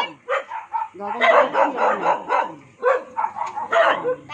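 A dog barks repeatedly in a rapid series of yips and woofs, fairly close and loud, in a poor neighborhood in Binh Chanh, while a person speaks briefly over it.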